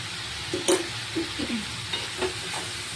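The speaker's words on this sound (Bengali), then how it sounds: "সবজিগুলো ভালো করে নেড়ে চেয়ে নেব যে নুন হলুদটা দিয়েছি" Vegetables seasoned with salt and turmeric are stirred in a pan, a soft steady sizzle under several quiet scraping strokes of a spatula, with no voices.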